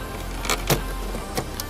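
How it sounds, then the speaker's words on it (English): A plastic gauge cluster cover on a 1996-2000 Honda Civic is pried and slid out of the dashboard, giving a few short, close plastic scrapes and snaps over a faint, steady background hiss. "Pull on the bottom, push down on the top, and slide that piece out."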